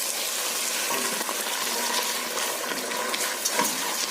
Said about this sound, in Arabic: بس هما التقليبتين دول وهننزل بالعدس على طول. ونقلب،